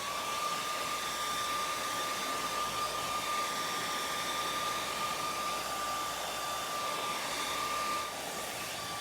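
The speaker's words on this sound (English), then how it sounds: "I'm going to use a hairdryer very quickly to just stiffen the clay up quickly" A hairdryer blows steadily and loudly on a clay pinch pot to stiffen it, a constant close whooshing drone with a thin high whine that continues unbroken throughout.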